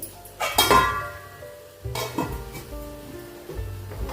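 A pot of pulao set down on a metal tawa over a gas stove, with a clear clank of metal on metal followed by lighter scraping and shuffling knocks of cookware, close and moderately loud.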